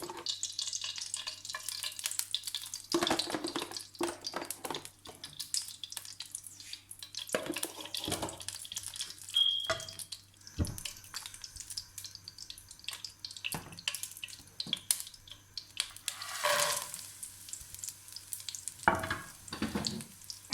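Dry fruits roasting in a pan for sugar-free panjiri, with a steady soft sizzle, scraping and stirring clatter throughout, plus occasional water-like splashing, with no talk.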